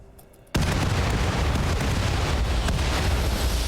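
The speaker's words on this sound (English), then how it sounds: "Here comes our barrage." A railgun barrage strikes a ship in a space combat video game, opening after a quiet moment with a sudden loud boom that becomes a sustained, roaring rumble of impacts and blasts, heard alone without talk.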